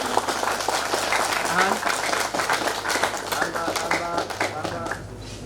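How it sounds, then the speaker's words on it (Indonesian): Audience applause at an Indonesian literacy event, a dense patter of many hands clapping steadily throughout, with a voice speaking over it and a sustained low hum beneath, tapering slightly near the end. "silakan diberikan tepuk tangan"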